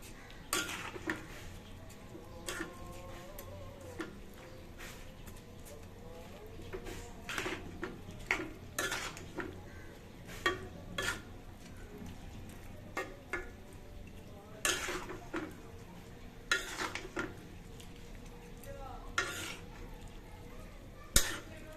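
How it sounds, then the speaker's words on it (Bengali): Rice and mixed vegetables for vegetable pulao are stirred in a pan, giving repeated sharp scrapes and clinks of a spatula against the metal over a faint sizzle, close and irregular. "এই সবজির সাথেই এই পোলার চালটাকে একটু ভালোভাবে নেড়েচেড়ে কষিয়ে নেব।"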